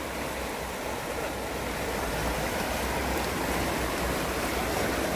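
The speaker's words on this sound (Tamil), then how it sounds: "இது பாலத்துக்கு கீழே அப்படியே ஓடிக்கொண்டிருக்கு." A branch of the Mahaweli Ganga river rushes beneath the Yaka bridge in Peradeniya, Kandy. It sounds like a continuous, even roar of flowing water, fairly soft and steady, with no voices.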